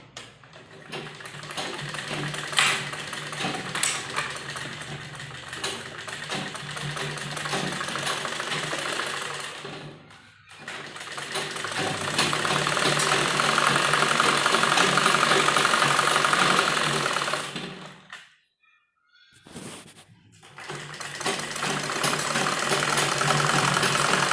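A sewing machine runs in long continuous bursts while stitching a kurti sleeve, a dense mechanical whir with fast rhythmic ticking, pausing briefly twice before starting up again.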